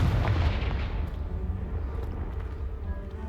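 Confringo blasting spell in Hogwarts Legacy detonating as a heavy, booming explosion up close, followed by a long rumbling decay with scattered debris crackles.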